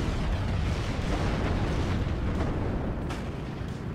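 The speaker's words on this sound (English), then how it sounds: "That's a Marder and one of the tanks firing at each other with missiles." Marder vehicle and a T-80 tank in WARNO trade missile fire amid heavy fire support, with dense rumbling explosions and repeated bursts forming a continuous loud barrage and no voices over it.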